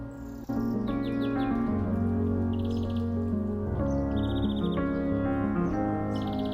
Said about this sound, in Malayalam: വെള്ളത്തിൻ്റെ സൗണ്ടൊക്കെ കേട്ട് കിളികളുടെ സൗണ്ടൊക്കെ കേട്ട്